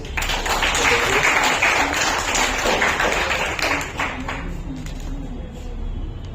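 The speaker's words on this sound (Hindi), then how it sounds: "जोरदार तालियां।" Applause from the audience at an Orator of the Month award ceremony; dense clapping fills the first four seconds, then fades to scattered claps under a low background of voices.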